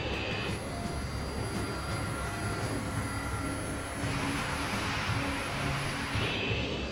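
Jet airliner engines roar steadily during taxi toward the runway, a continuous loud broadband rumble with a high whine, heard alone without talk.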